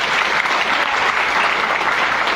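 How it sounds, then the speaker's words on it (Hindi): A crowd at a motivational speech claps in a loud, dense, continuous burst of applause, steady throughout the short span with no voice on top. "तालियां बजा के मुझे दिखा दें।"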